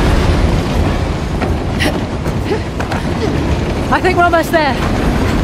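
A train rolls along in Uncharted: The Lost Legacy as a steady, loud mechanical rumble with rhythmic clatter, running continuously under a man's speech.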